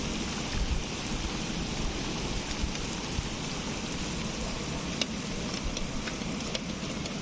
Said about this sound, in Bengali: জানলা দিয়ে বৃষ্টি